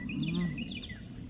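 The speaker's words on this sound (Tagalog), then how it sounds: "Uminit, daming ibon, maingay." Several birds chirp and tweet in quick high calls, faint and somewhat distant, over a low steady background hum, in a park on a hot day.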